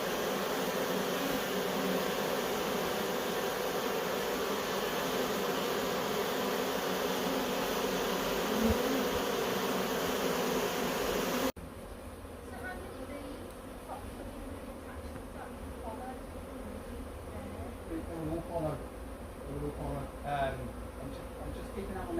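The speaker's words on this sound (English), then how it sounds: "what you can now see outside the hole is the bees fanning" A honeybee swarm fans its wings at a hive entrance during rehoming, giving a steady, dense buzzing drone that fills the first half and then softens, with scattered nearer individual buzzes.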